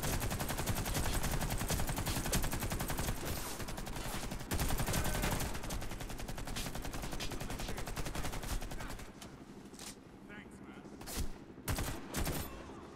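Sustained machine gun fire in AC7 rattles in long rapid bursts, loud and continuous, then thins into a few scattered shots near the end, with voices talking underneath.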